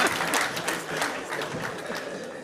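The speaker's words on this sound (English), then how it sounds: "Please, let's encourage him with claps so that he won't be too long on the microphone" An audience at a political event with Governor Aregbesola applauds, a loud burst of crowd clapping that is close at first and then settles into steady claps.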